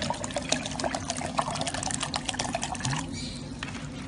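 A liter of water pours into a blender jar for a celery drink, a steady splashing trickle that runs for about three seconds before easing into quieter dribbling, with faint background noise.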